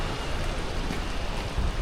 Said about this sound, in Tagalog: Sobrang ulan ngayon. Grabe.